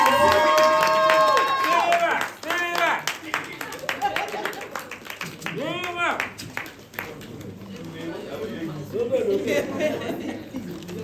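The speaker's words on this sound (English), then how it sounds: "give us a round of applause for him, please" Guests at a film trailer launch clap and cheer for a cinema distribution executive. Sharp, scattered claps and crowd voices build under an announcer's amplified speech, with people talking and laughing throughout.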